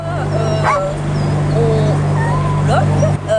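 Dogs carried illegally in a transport vehicle bark, yip and whimper repeatedly at close range, over a steady low engine hum and under ongoing talk.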